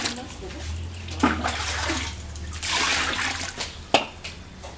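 Water pours and splashes into a basin to soak embroidered huipiles for hand washing, a steady rushing fill with a few sharp splashes, while someone talks over it.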